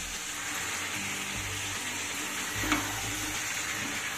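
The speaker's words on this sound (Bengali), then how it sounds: "এবার সবটাকে খুব সুন্দরভাবে কষিয়ে নেব" Palak chicken being stir-fried in a pan over the stove: a steady, soft sizzle with occasional low scraping as the mixture is stirred, one brief clink near the end.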